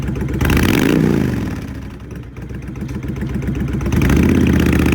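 A used 2006 Honda VTX1300R V-twin cruiser motorcycle runs close by with a loud, lumpy idle, rising in a rev, easing back down, then climbing again.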